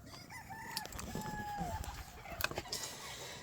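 Chickens cluck and a rooster crows in a cold coop, several short calls and a crow spread through steady background noise, fairly near.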